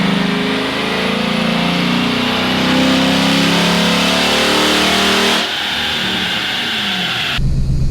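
A cammed 6.1 Hemi V8 roaring loud and sustained on a dyno pull, the revs holding high before dropping off suddenly near the end.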